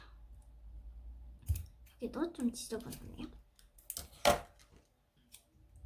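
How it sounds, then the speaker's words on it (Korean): Scissors trim the pointed ends of a plastic drinking straw folded into a heart, giving a few soft clicks and snips, with one sharper cut near the end. A person speaks quietly in between. "여기 이렇게 뾰족한 부분을 좀 가위로 잘라줄게요"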